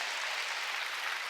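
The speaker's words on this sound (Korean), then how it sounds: "박수 치려면 세게 치라니까." A church congregation claps during a sermon, a steady wash of applause from many hands, moderately loud and sustained without any speech over it.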